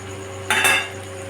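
Chicken curry being stirred in a pan with salt and kasuri methi added, a brief spoon-and-pan scrape lasting under half a second over a steady kitchen background hum.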